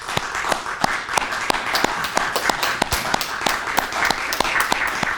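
Scattered hand claps ring out at a high school senior recognition ceremony, a few sharp, separate claps a second that sound thin and spread out rather than a full roar.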